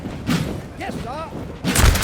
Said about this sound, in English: Grenadiers unleashing a volley